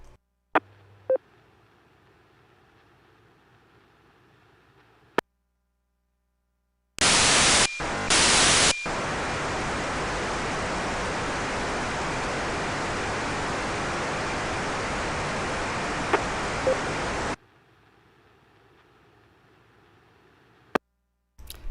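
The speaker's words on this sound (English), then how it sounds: "I'll play it again here, and this is D-Star." A D-Star digital voice ham radio transmission: a loud, flat burst of harsh hissing digital noise lasting about ten seconds, opening with a couple of short stuttering bursts and set between stretches of faint background hiss.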